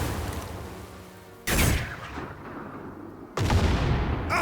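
Mortar fire in the World War II strategy game Headquarters: World War II: two loud booming blasts a couple of seconds apart over a low rumbling battlefield background.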